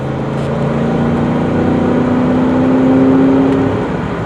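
2004 Cadillac DeVille sedan with a front-wheel-drive automatic V8 accelerating on the road, a steady loud engine drone with a rising tone as it picks up speed, heard from inside the car.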